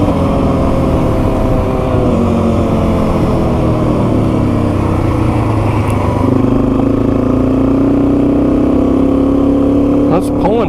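A Yamaha TW200 dual sport motorcycle with a freshly rebuilt, modified carburetor pulls hard through its gears, the single-cylinder engine note rising and shifting as it accelerates under load, loud and continuous with wind noise throughout.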